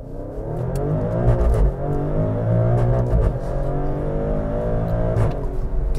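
A 2023 Maserati Grecale Trofeo engine drones loudly and steadily from the cabin as the SUV slows in manual mode, with a smooth hum that dips slightly in pitch and a few faint clicks over it.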